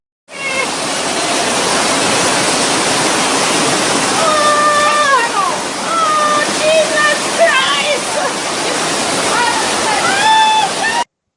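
Floodwater rushes loudly and steadily through Kingston, Jamaica, in the aftermath of Hurricane Matthew, a broad roaring wash of water that fills the whole scene while voices shout and talk over it.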